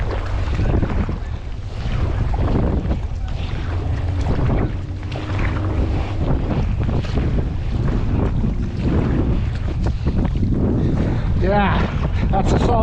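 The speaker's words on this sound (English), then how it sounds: "I'm going against a decent wind here." Strong wind roars across the microphone while paddling a skin-on-frame kayak on open water, steady buffeting with splashes, and someone talks under it.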